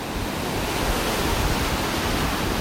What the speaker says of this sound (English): just watching the waves, enjoying the sounds and the sights of the waves breaking on shore here